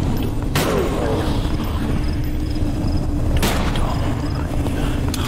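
Two sharp, booming gunshots from the survival horror game Them And Us, about three seconds apart, over a steady low rumble of background noise.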